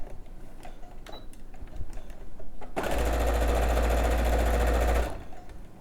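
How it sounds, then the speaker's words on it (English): A sewing machine stitches a quarter-inch seam in fabric for a bag, running in one loud, even burst of about two seconds after a few faint clicks and quiet handling. "So just with the sewing machine,"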